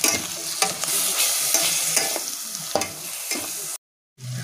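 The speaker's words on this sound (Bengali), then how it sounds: "এবার আমরা ভালো করে মশলাটা কষিয়ে নেব।" Bengali-style masala paste for doi chicken fries and sizzles in a pan as it is stirred, with steady frying hiss and repeated scraping strokes, then a brief drop to silence near the end.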